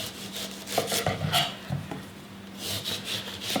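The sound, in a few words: peeling a watermelon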